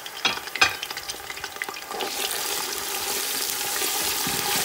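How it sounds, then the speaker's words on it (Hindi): Onions dropped into hot oil for mutton karahi, first a clatter of pieces landing and stirred, then a loud, dense, close sizzle rising steadily, with no voices. "अब मैंने ये प्याज डालने लगी है इसमें।"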